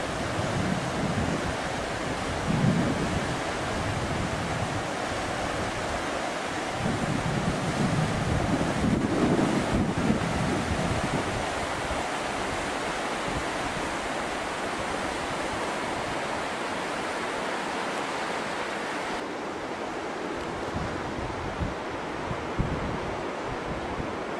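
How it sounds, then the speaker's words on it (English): Powerful floodwater rushes down through a gorge near Kalumburu Mission, a steady, dense roar that stays loud and continuous throughout with no voices. "See the water coming down through the gorge here."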